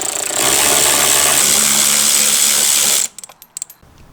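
Power tool driving out the 8mm bolts holding a GR Supra rear bumper, a loud continuous whir for about three seconds, then stopping abruptly into a few light clicks and taps.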